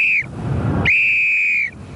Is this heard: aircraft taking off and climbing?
no